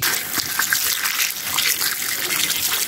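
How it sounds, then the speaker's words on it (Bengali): Clean water gushes steadily from a tap over muddy, sandy taro stems being washed, a loud, continuous splashing rush up close with no talking. "তার আগে এগুলোকে আমি ভালো করে পরিষ্কার পানি দিয়ে ধুয়ে নেব"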